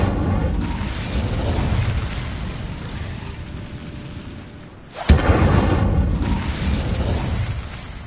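An Incendio fire spell cast in Hogwarts Legacy gives a sharp burst partway through, then a sustained rushing roar over a steady noisy game ambience.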